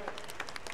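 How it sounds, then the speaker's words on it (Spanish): Applause from the audience at a basketball game in Tamazulapam, a faint, thin patter of scattered clapping heard from a distance for under a second. "Y que se escuchen los aplausos."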